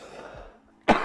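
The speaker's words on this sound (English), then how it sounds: "There's that cough." A single sharp cough near the end, close and loud, following a short stretch of faint room sound.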